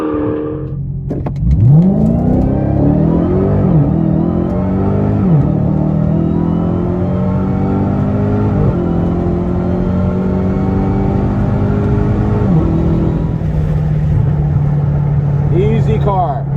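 A car engine revs hard from idle and launches in track mode, pitch climbing through several gear shifts, loud and steady throughout.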